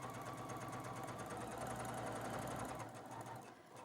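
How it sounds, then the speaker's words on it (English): Sewing machine running steadily as it stitches over fabric, a fast close mechanical whirr with rhythmic needle knocking that slows and stops near the end. "So I'm going over the stitching."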